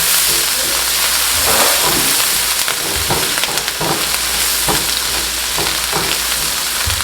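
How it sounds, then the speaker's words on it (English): Ginger paste and rice sizzle steadily in a hot pan, a loud, continuous frying hiss broken by soft scraping taps as the mixture is stirred, close up and with no talking. "And let it fry."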